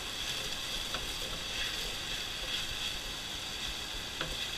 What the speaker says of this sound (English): Onion's gonna cook down.